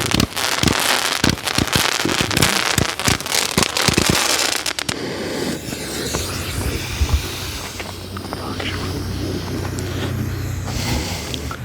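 Fireworks go off in a loud run of sharp bangs and crackles over the first few seconds. A hissing, crackling tail follows as the board is fired by hand, with no speech.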